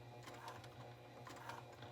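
A sewing machine fitted with a 1/8 inch zipper foot stitches strap material with Gutermann Mara 70 thread at stitch length 5. It gives a quiet, steady mechanical whir with a rhythmic pulse.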